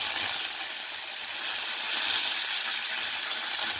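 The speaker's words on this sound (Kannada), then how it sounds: "ಕರಿಬೇವಿನ ಸೊಪ್ಪನ್ನ ಹಾಕ್ಕೊಳ್ತಾ ಇದ್ದೀನಿ" Curry leaves sizzling in hot oil for tempering, a continuous bright crackling hiss that stays steady and fairly close throughout, with no voices.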